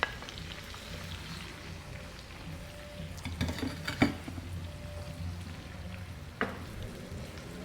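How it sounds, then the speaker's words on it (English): Fresh tomatoes going into sautéing, translucent onions in a pan for okro stew, giving a steady close sizzle and frying crackle with a few sharper spatters and stirring knocks, no talking. "now my onion is translucent. I'm gonna add my fresh tomatoes"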